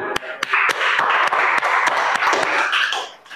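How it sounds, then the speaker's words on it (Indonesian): Classmates applaud a group's presentation in a classroom with a burst of dense, lively clapping that holds steady for about three seconds before tapering off, loud and close. "Beri tepuk tangan."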